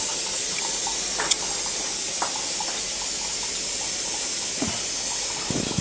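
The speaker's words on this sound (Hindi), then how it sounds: "प्योर पानी का फ्लो बहुत फर्स्ट क्लास आ रहा है" Purified water flows from an RO water purifier after its membrane has been replaced, a steady close hiss and splash with occasional brief clicks and drips and no speech.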